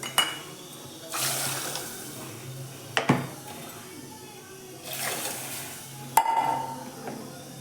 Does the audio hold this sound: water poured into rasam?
yes